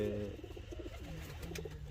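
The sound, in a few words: pigeons cooing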